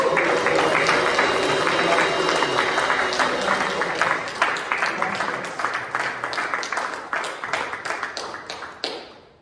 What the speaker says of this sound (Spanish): Quiero darse un fuerte aplauso